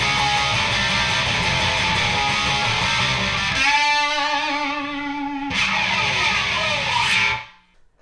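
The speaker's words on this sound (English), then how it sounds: "on the 4th time, he's just going to do like a long pick slide" Distorted electric guitar for a song: loud strummed chords give way to a long pick slide scraping down the strings, then a final crashing chord that cuts off abruptly near the end.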